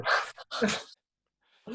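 A dog barks indoors at home in two loud, close bursts, followed by a short pause and then a fainter sound starting at the very end.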